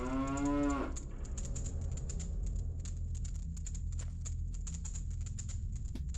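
A cow in the video game Majora's Mask gives one loud, clear moo lasting under a second, followed by steady game background sound with a soft repeating high chime.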